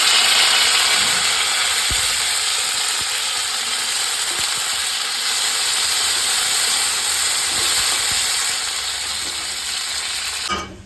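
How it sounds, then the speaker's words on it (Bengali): Bitter gourd pieces frying in mustard oil for a vegetarian curry, a loud, steady close-up sizzle and hiss that runs without a break for about eleven seconds, with no talking. "প্রথমে আমি উচ্ছেগুলোকে খুব সুন্দরভাবে একদম আলাদাভাবে ভেজে নেব, কারণ উচ্ছে কিন্তু আলাদা করে ভেজে নিতে হবে।"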